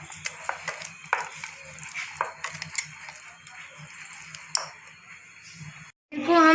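Paneer pakora batter being mixed with coriander in a bowl: repeated scraping and light clinks of a spoon against the dish, fairly close and moderately loud, with a short pause and a louder sound at the end.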